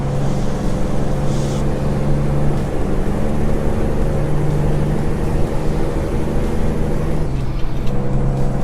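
A Kenworth truck downshifting in American Truck Simulator while hauling a Fruehauf Aerovan trailer: a loud, steady diesel engine drone that holds through the gear change, with a brief hiss of air near the end, no talking.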